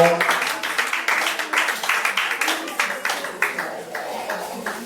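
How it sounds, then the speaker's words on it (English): A crowd applauding steadily, many hands clapping in a dense, continuous patter that fades slightly toward the end. "Please clap for him as he's coming out. Clap for him now."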